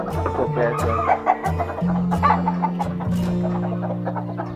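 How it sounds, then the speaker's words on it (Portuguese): A hen clucks repeatedly at a countryside farm, close and clear, in short rhythmic bursts with other fowl calling around her and faint talk in the background. "Olha aqui essa galinha."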